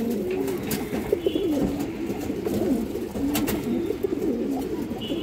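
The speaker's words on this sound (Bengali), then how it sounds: "এই যে দেখেন অনেক সুন্দর কবুতর" Pigeons coo in a steady, close murmur of repeated low warbling calls, continuing without pause beside occasional faint chirps.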